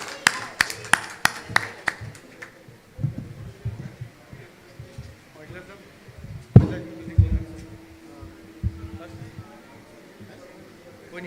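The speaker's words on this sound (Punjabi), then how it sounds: "ਇੱਕ ਵਾਰ ਜ਼ੋਰ ਦੀ ਤਾੜੀਆਂ ਨਾਲ ਫਿਰ ਦੁਬਾਰਾ ਮੋਟੀਵੇਟ ਕਰੀਏ ਸਵਾਗਤ ਕਰੀਏ" Applause from the audience at a Punjabi poets' gathering and conference in Brampton, Canada: scattered claps in a short burst at the start, then a hall with murmuring voices and a loud thump.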